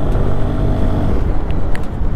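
Hero Xoom scooter accelerating on a closed circuit beside a busy road, a steady loud engine drone mixed with wind rush, continuous throughout with no talk.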